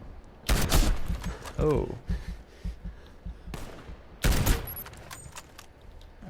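Gunfire in the shooter video game Warface: a few loud, sharp shots spaced seconds apart, the first in a short burst, over low in-game background noise, with a brief spoken exclamation between them.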